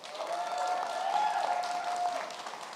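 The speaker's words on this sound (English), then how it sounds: "Give yourselves a round of applause." An audience at a leadership institute demo day claps in a steady, moderately loud round of applause lasting a few seconds, with a faint tonal sound running underneath.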